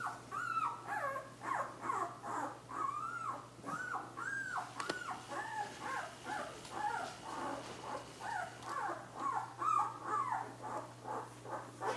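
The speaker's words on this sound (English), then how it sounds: "Cute doggy." Week-old Chinook puppies in a litter whimper and squeal in a steady run of short, high cries, close and fairly quiet, with a low steady hum underneath.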